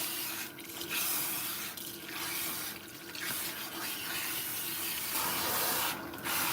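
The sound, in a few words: running water rinsing shampoo bubbles out of hair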